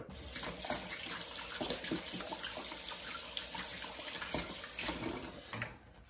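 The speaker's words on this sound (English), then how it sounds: "I washed my hands, I'll wash them again." Kitchen tap water running steadily into a sink as hands are washed, a continuous close splashing stream with no talking.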